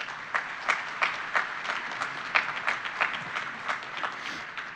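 An audience claps at a university College of Education teacher pinning ceremony, a fairly soft, steady round of applause with scattered sharper claps lasting about five seconds.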